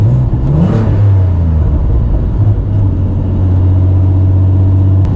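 A Renault Clio V6 drones loudly from inside while driving, a steady deep engine hum that swells briefly with a rev, then settles into a constant rumble.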